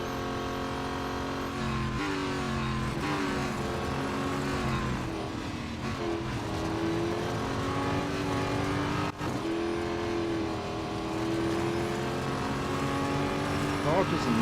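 The Duqueine D0 race car in the Real Racing 3 mobile game, its engine whining continuously as it revs up and down through gear changes, with a commentator talking over it throughout.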